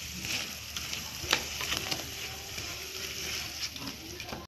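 Lentil fritters (bora) deep-frying in oil over a high flame, a fairly quiet steady bubbling sizzle with occasional light clicks of a spoon against the pan.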